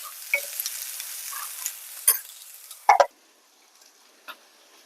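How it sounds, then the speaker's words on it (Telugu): Spine gourd frying in hot oil while being stirred, with a soft continuous sizzle broken by scraping spatula strokes and a few sharper clacks against the pan, then the sizzle thins near the end. "ఇలా ఆయిల్లో ఫ్రై చేసుకున్నప్పుడు అప్పుడప్పుడు కలుపుతూ ఉండాలి, లేదంటే మాడుతుంది."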